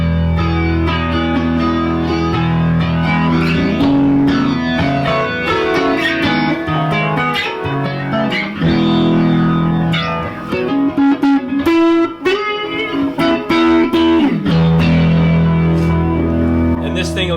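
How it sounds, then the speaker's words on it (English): Distorted electric guitar playing chords and riffs through a flanger pedal, with a sweeping, whooshing jet-like modulation, loud and continuous throughout. "So let's turn this back on, and we'll go to flanger."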